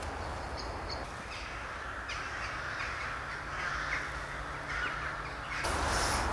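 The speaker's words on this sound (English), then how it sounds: "Here are all the crows. They're all coming into roost for the night in the trees on the far bank." Crows cawing steadily as they fly in to roost in trees on the far bank of a brook at dusk, a flock calling from middle distance, overlapping caws continuing throughout the clip.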